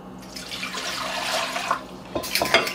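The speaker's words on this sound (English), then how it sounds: "To that, I'm going to add 4 cups of water." Water runs from a tap into a container holding a baking soda soak for cleaning fruits and vegetables, a steady splashing pour with a few clinks of dishes near the end.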